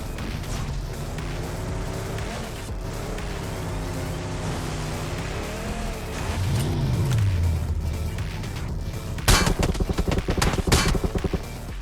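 A vehicle races along in PUBG Mobile gameplay, its engine droning steadily and shifting in pitch as it speeds up. A burst of clattering impacts comes near the end.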